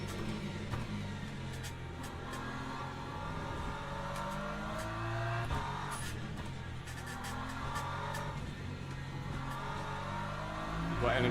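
Race car engines at the Sebring circuit during an endurance race, steady engine drone and whir with rising and falling pitch as cars pass, continuous and fairly loud throughout, with no talk.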